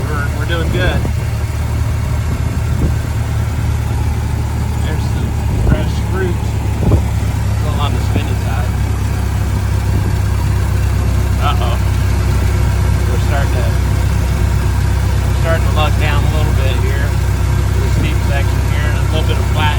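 A Ford Model T engine labours steadily up a long steep hill, a loud constant low rumble while someone talks over it. The engine may have a plugged fuel filter and had been skipping.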